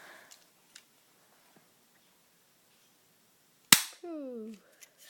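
Ukarms G10 spring airsoft pistol, an orange plastic 1911-style replica, fired once: a single sharp snapping crack followed by a twangy spring-like ring, with faint handling clicks beforehand.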